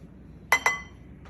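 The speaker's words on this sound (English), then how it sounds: "And I'm gonna stir that all up." Two quick, bright clinks of a utensil striking a bowl while salt, baking soda and baking powder are stirred together as dry ingredients for cherry chocolate chip cookie dough, close and fairly loud against a quiet room.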